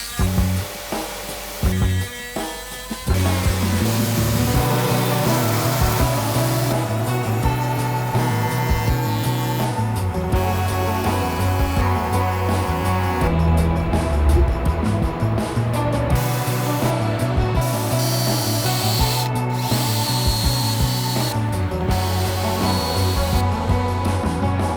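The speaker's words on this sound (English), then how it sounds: "now I've got the multi-tool out and the router with the roundover bit so I can finish up all the inside edges" A router fitted with a roundover bit and an oscillating multi-tool work along wooden edges, giving a steady, loud whine that runs almost unbroken after a few short starts and stops at the beginning.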